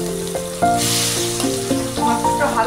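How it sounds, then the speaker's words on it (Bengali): A turmeric-and-salt-rubbed fish frying in hot oil, giving a loud, continuous close-up sizzle with bubbling crackles and a faint tonal hum underneath. "এবার আমি মাছটা তেলে দিয়ে দিচ্ছি।"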